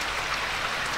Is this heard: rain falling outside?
yes